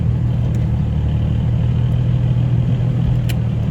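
Nissan 350Z idling with the cabin fan on high, a steady low engine rumble under a constant airy blower hiss, close and unbroken with no talk.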